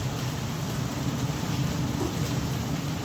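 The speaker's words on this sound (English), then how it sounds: "it decides it's going to rain today" Steady rain falls outdoors over a barbecue pit cooking pork loin and spare ribs, a dense, even hiss with low rumbling underneath, moderately quiet and continuous.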